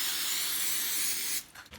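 Cooking spray from an aerosol can hisses steadily onto silicone candy molds in one sustained burst of about a second and a half, close and loud, then cuts off, leaving faint handling noises behind.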